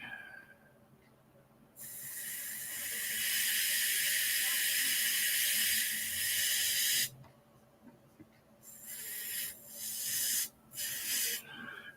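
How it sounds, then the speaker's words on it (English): Alcohol cleaner sprayed in long hissing bursts onto a circuit board during liquid damage cleanup: one sustained spray of several seconds, then a few shorter bursts, close and loud over a quiet room. "Gotta flood this with alcohol a few times."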